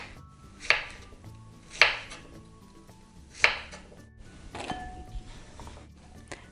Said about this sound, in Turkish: Dörde böldüğümüz kabakları şöyle zar büyüklüğünde doğruyoruz.